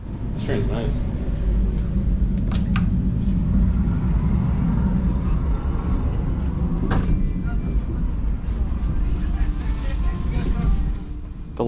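Inside a long-distance passenger train in Portugal, a steady low rumble of the moving carriage fills the space, with a few sharp clicks and rattles, and a voice speaks over it.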